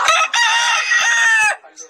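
A single rooster, a ten- or eleven-year-old gamecock, lets out one loud, close crow that breaks briefly near the start and then tails off.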